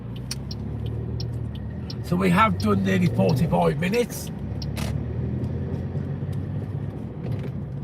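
A car drives steadily on the way down to a new car park, its low engine and road rumble running throughout while someone talks over it for a few seconds.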